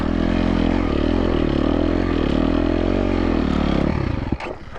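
A KTM 250 XC-F dirt bike engine runs loud and steady on a desert trail with a close, buzzing drone, then cuts off abruptly near the end into a few clattering knocks.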